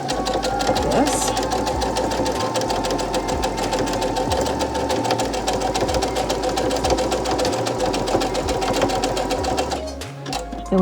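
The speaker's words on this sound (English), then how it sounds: "you're going to stitch a little closer to the edge, like this" A sewing machine stitches binding onto a fabric face mask, its needle hammering in a fast steady rhythm with brief pauses, loud and close, then slowing to a stop near the end.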